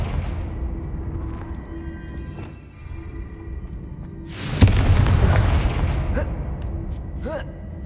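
A Confringo fire spell bursts in a Harry Potter video game, a sudden loud booming blast midway that rumbles and crackles over a steady low background hum before fading into lingering noise.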